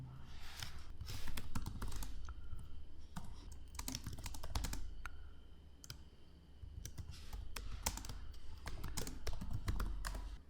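Fingers type on a computer keyboard in quick, uneven bursts of crisp key clicks and taps, close and distinct, with brief pauses between runs.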